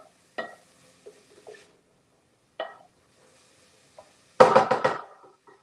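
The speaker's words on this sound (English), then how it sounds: "I'm just gonna stir this up a little bit" Zucchini corn chowder being stirred in a pot, with a few separate spoon knocks and scrapes against the pot followed by a louder clattering stir, close by with quiet gaps between.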